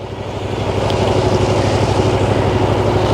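A steady motorcycle engine drone rises slightly in level and then holds at a low, even throttle, close and continuous with no talking.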